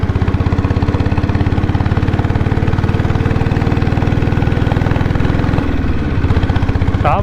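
A diesel Bullet motorcycle engine runs during a test drive with a loud, steady, low thumping beat, shifting slightly in rhythm near the end.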